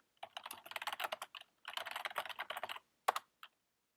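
Password keystrokes on a computer keyboard, two quick bursts of close, crisp clicking separated by a short pause, then a couple of isolated final key taps; no talking.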